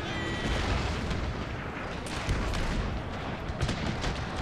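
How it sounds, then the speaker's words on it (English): Mortar artillery fires in a Total War battle set in the Thirty Years' War, a dense, rumbling barrage of booms and blasts layered together, loud and continuous with occasional sharper reports. "then the mortars will be firing on this unit"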